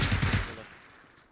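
A quick burst of rapid automatic gunfire in a video game, several loud cracks in close succession that cut off and leave a fading tail.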